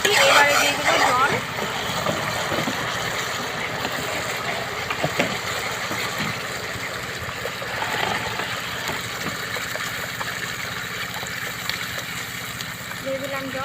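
Water is poured into a pan of chicken kofta curry, and a soft splashing, bubbling wash runs under a steady background hum. A voice talks over it at times.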